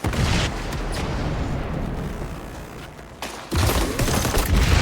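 Grenade blasts and gunfire in the video game XDefiant, a dense, loud, sustained barrage of shots and booms with a brief dip before a renewed burst of fire.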